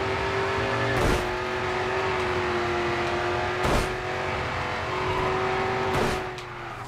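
A race car in Grid 2 drones along with a steady, loud engine tone, broken by three sharp rushing sweeps as other cars pass close by at regular intervals.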